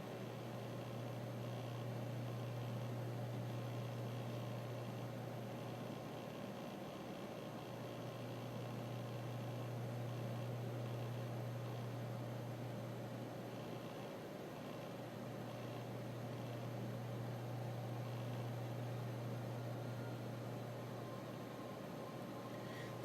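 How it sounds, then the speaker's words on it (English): A steady, quiet hum with a constant low tone comes from a headset resting beside a PC case holding an ASUS AMD R9 280X OC TOP graphics card, running unchanged for the whole stretch with no talk. "That noise you can hear is actually the sound coming from the headset that's sat on the side of my"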